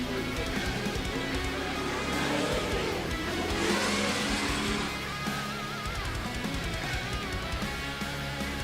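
Historic single-seater race cars circle a parade track, a dense continuous roar of engines passing close by with no break, loud and steady throughout.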